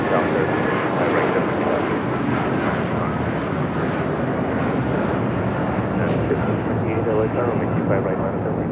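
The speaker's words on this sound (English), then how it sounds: "This is United Airlines 1260 taking off to Denver on the 757-300." United Airlines Boeing 757-300 taking off from Los Angeles LAX bound for Denver, a loud, continuous broadband jet engine roar that holds steady throughout, close and dominant with no talk over it.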